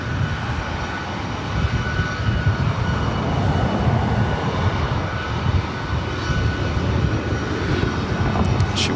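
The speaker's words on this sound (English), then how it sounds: "Delta Airlines flight 2075. It's a 25-year-old 757 at 200." A 25-year-old Delta Airlines Boeing 757-200 jet at LAX, its engines giving a steady, broad roar that holds for the whole stretch with no voices over it.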